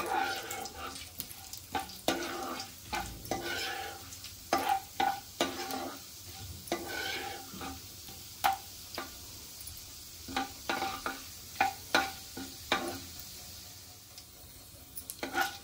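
Chana dal and urad dal sautéing in hot tempering oil with cumin and mustard seeds, a continuous sizzle with irregular spoon scrapes and clatters against the pan, close and loud, with no speech.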